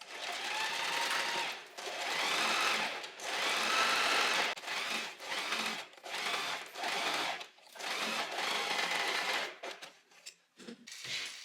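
Sewing machine stitching a seam on long linen pants, loud close bursts of rapid mechanical whirring separated by short pauses, the runs shortening and becoming choppier toward the end.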